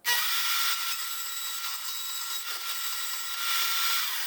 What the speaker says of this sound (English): I'm going to be cutting this on my portable bandsaw stand that I made.